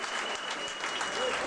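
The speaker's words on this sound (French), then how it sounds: "Je vous demande s'il vous plaît de l'applaudir." An audience at a concert applauds a musician being introduced on stage, a dense, steady wash of clapping with a voice faintly audible underneath.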